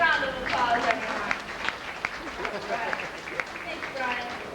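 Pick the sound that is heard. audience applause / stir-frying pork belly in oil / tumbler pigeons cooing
audience applause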